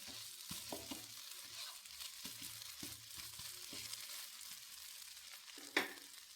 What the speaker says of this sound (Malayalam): നെയ്യ് ഒഴിച്ചു കൊടുക്കും നമ്മൾ ദോശ തിരിച്ചിടാം